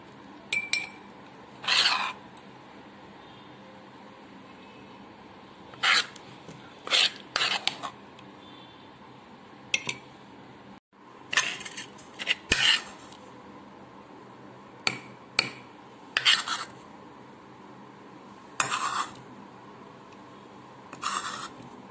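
Mustard seed and chilli pickle is spooned into a glass bottle, making scattered bright clinks and taps with quiet pauses between them.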